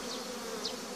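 Honeybees buzz in a steady, dense drone close by as a spring hive is opened for inspection, a continuous hum with a couple of individual bees flitting briefly nearer.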